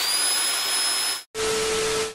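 A vacuum cleaner under repair for a no-power fault runs with a loud, steady motor whine and rushing air, cuts out briefly for a split second, then roars back on at full strength, with no talking.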